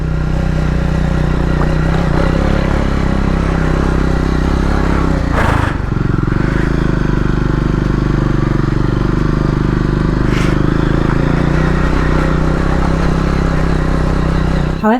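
A Scrambler 400X motorcycle rides over a very bumpy road in first gear, its engine droning loud and steady throughout with clattering jolts from the rough surface near the middle and end.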